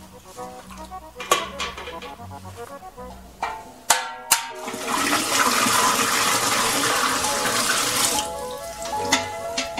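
Water pours into a 1955 Soviet EAYa-3 washing machine, a loud, sustained rushing splash in the middle of the clip, framed by a few clanks and knocks of the tub before and after.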